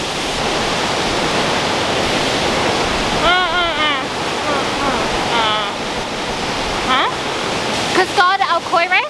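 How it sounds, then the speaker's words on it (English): El Chiflon waterfall in Mexico roars as a loud, steady broadband rush heard from a distance below, while someone talks continuously over it. "So down there you have the gigantic waterfall we just saw."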